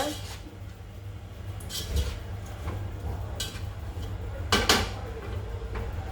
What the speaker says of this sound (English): We'll just give a nice stir.